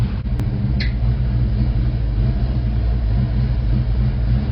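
A 1989 Ford Mustang Foxbody engine idles roughly, a loud, low, lumpy rumble that pulses unevenly and steadily close by, with a couple of brief clicks near the start.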